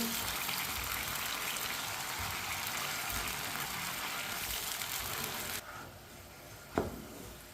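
Water pours from a vessel onto sugar in a pan for laddu syrup, a loud steady gushing stream that stops abruptly partway, followed by a brief clink near the end.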